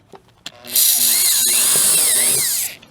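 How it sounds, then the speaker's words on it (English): After a couple of light clicks, a power drill drilling a pilot hole in a pickup truck spins up loudly and whines steadily for about two seconds before stopping. "I'll just go ahead and drill that pilot."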